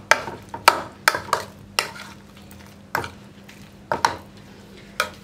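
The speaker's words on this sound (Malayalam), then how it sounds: "അതിനുശേഷം നമുക്കിതിലേക്ക് കോൺഫ്ലവർ ചേർത്ത് മിക്സ് ചെയ്യാം." Soya chunks mixed with cornflour and salt being stirred by hand or spoon in a bowl, a run of sharp, close scraping and tapping strokes at an irregular rhythm, no talk.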